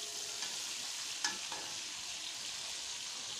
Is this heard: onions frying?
yes